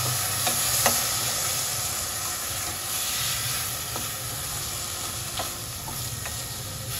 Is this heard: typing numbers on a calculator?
no